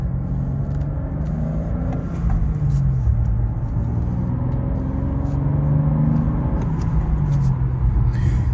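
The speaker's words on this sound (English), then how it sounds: "as I go down to 2, it automatically rev match up into 3. And again, back down into 2, it automatically rev match." Engine of a 2024 BMW M2 with manual gearbox heard from inside the car during downshifts, a steady loud rumble with rising and falling pitch as the revs are matched, no talking.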